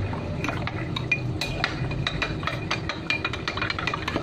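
A spoon stirs a cornstarch mixture in a glass, giving a steady run of quick, light clinks against the glass over a low background hum, with no talking.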